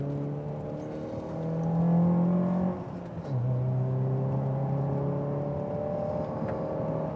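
Mazda race car at lap pace on the Belle Isle Grand Prix street circuit, its engine holding a loud steady drone near the listener, dipping briefly around the middle and climbing again as it accelerates out of a sharp right-hand turn.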